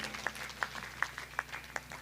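A small crowd at a Devi Bhagwat katha gathering claps in a steady rhythm, sharp claps about three per second, faint and somewhat distant.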